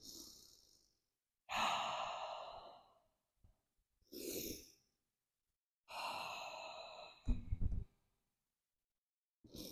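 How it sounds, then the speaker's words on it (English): Deep breathing during yoga: slow, close, audible inhales and long sighing exhales alternate with quiet gaps, and a brief low thump follows near the end. "just take a few deep breaths here"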